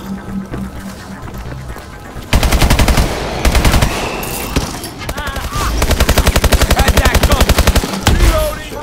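Rapid automatic gunfire in the Exo Zombies video game, dense and loud bursts firing in quick rhythmic strings with brief gaps between them, close and dominant throughout.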